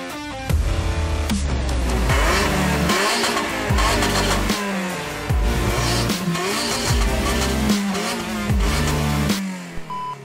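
A Lotus Emira with a 3.5-litre V6 and manual gearbox accelerates hard around a test track, its engine climbing repeatedly through the revs with clear drops at each gear change, loud and close throughout.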